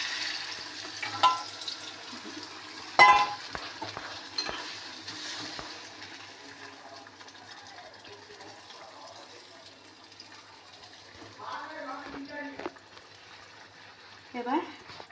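Water goes into a pan of frying Bengali fish curry (macher jhal), giving a soft, steady sizzle and bubbling with a few clattering bursts, fairly quiet throughout.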